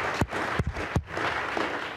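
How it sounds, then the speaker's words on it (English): An audience at the 2018 City of Boston scholarship ceremony applauds, a dense, steady wash of clapping with a few sharper claps standing out. "Big round of applause."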